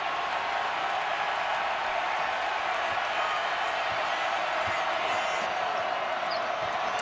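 Steady roar of a basketball arena crowd during an NCAA tournament game, South Carolina against Duke, loud and continuous with faint bounces and scattered shouts within the din.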